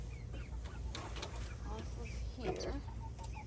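Chickens clucking in a backyard garden coop whose area got wet from a leaking hose, soft intermittent clucks under a nearby woman's speech and low background hum.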